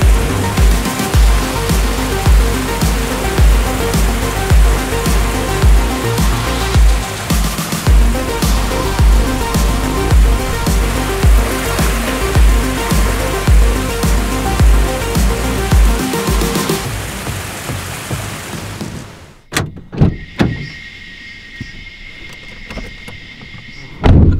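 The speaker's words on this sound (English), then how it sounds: "It's always nice when you can, you know, jump into a waterfall." A waterfall an hour from Cairns, Australia, roars as a dense, continuous rush for most of the time. It then cuts off abruptly and is followed by a quieter scene with a few bumps and knocks.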